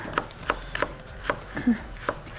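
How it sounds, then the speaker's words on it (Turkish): Sharp knife taps on a cutting board while chopping salad ingredients, about six evenly spaced chops with faint background noise between them. "Şöyle güzelce doğruyoruz."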